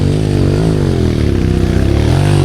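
Loud, close motorcycle engine, a Rusi 200 trail bike, revving hard during an uphill trail climb, its pitch rising and dipping slightly in a continuous, strained roar.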